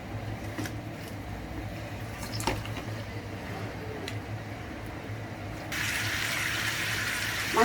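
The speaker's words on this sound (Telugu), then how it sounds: "చిట్టపట్లు ఆడుతున్నాయి కదా, చూడండి ఒకసారి దగ్గరికి పెట్టమ్మా" Spices crackling and spluttering in hot oil for a fish curry, a steady hissing, fizzing wash with occasional pops, growing brighter and louder toward the end.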